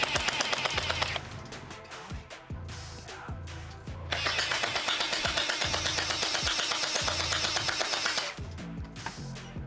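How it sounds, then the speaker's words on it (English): Rapid bursts of gunfire fired as warning shots, loud and close, with sharp repeated cracks in a fast rhythm across two long volleys separated by a brief lull. "Give him a couple warning shots."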